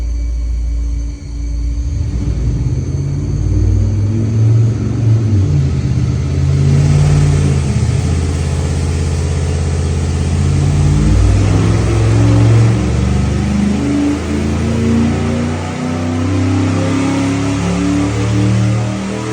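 A car engine in an automotive lab starts and then accelerates, rising into a loud sustained roar with climbing pitch that holds steadily for a long stretch.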